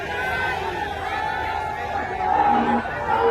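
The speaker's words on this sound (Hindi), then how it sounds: "अखबारों में चर्चा है कि इतनी भीड़ हो जा रही है कि संभालना मुश्किल होता जा रहा है।" A large crowd at Tejashwi Yadav's road show in Bihar, a dense, continuous murmur of many voices with scattered shouts, fairly loud throughout.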